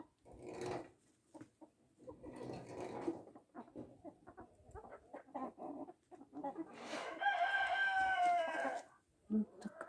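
Young chickens of several breeds bathe, with bursts of scratchy rustling and fluttering alongside clucks and a short crow-like call near the end, close by and loud.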